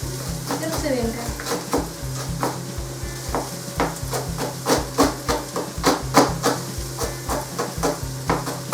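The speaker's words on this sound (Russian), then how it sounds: "Ну что, мы обжарили нашего кролика." Rabbit pieces fry in a pan, a steady sizzle under repeated rhythmic scraping and stirring strokes against the pan, close and clear with no voices.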